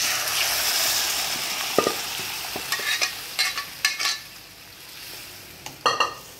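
Browned onions and cooked dal fry in a pan, a soft continuous sizzle broken by several sharp scrapes and clinks of a spoon stirring against the metal, with no talking.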